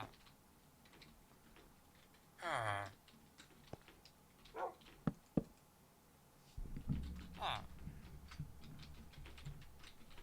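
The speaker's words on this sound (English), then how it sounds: "Here's a dog." A dog in a blocky Minecraft-style survival game server gives a few short barks and yips spaced out between soft clicks, with a louder burst of game noise near the end.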